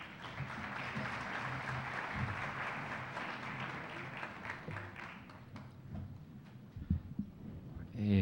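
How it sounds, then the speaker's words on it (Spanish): Audience applause welcoming a speaker at an international constitutional law congress, a sustained wash of clapping from a hall full of people that gradually thins out, followed by scattered knocks and handling noise near the microphone. "Lo recibimos con un aplauso"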